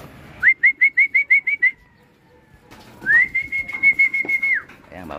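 A person whistles to call racing pigeons down to a loft in Cavite. A quick run of seven short, bright whistles is followed by a pause, then one longer warbling whistle, close and clear with no talking.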